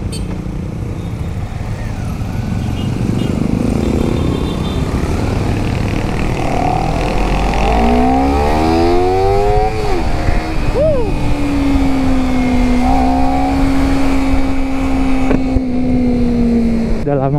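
A 2019 Honda CBR250RR sport motorcycle engine idles, then revs up with rising harmonic pitch, dips, and holds a steady higher drone, fairly close and loud, with no talking.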